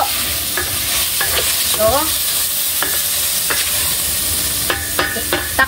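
Carrots and cabbage fry in a pan under a steady sizzle, with repeated scraping and clacking strokes of a spatula as the vegetables are stirred.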